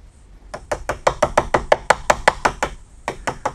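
Series of about fifteen sharp, evenly spaced knocks as a chisel is struck to knock out wood from a door for fitting a digital code lock; close, loud and alone with no talk.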